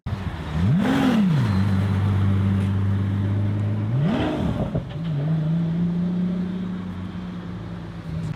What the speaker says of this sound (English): In game, they make it sound like an F1 car.